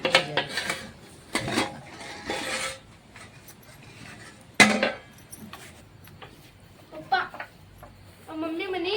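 Metal lid clanks onto a cooking pot during home cooking, with several sharp clatters and scraping rubs between stretches of talk in a kitchen.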